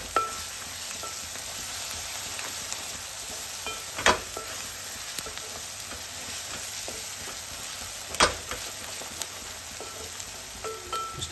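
Onions with ginger-garlic paste fry in a pan for a dried-prawn gongura dish, giving a steady close sizzle with occasional spoon scrapes and clinks.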